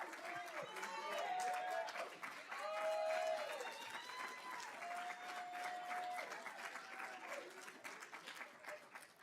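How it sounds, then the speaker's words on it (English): Applause and cheering for graduates at a middle school promotion and high school graduation ceremony, fairly faint clapping mixed with whoops and excited voices throughout. "One last big round of applause for these graduates."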